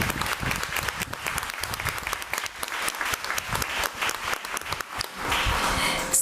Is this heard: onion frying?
no